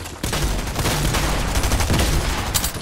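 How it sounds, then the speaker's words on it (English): Rapid shotgun blasts go off in quick succession during a video game, loud, close and overlapping into a near-continuous volley with no talk. "this new shotgun is actually kind of good"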